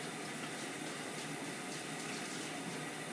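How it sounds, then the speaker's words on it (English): Water from a kitchen faucet runs in a steady, even rush as a plastic lid is tilted under it and rinsed, with no voices. "What you want to do is just kind of tilt it underneath the faucet."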